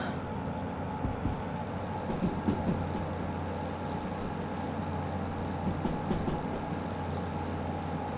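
Freight train climbing an uphill grade in the video game Derail Valley, a steady low rumbling drone with faint rhythmic clicking, continuous and fairly close, with no talk.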